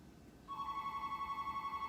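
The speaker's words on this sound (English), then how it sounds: "Sorry about the phone ringing." A telephone starts ringing partway through, a steady electronic warble that repeats in quick pulses and stays moderately loud against a quiet room.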